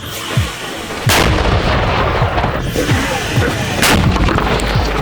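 A heavy mortar shot from a Ukrainian mortar crew on the Lyman front booms nearby, followed by another distant thud, with rumbling echoes rolling between them.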